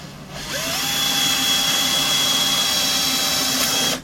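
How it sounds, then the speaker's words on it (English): A power drill whirs up to speed and runs steadily for a few seconds, drilling a pilot hole in wood, close and loud, then cuts off abruptly; no voices. "And I'll drill a pilot hole."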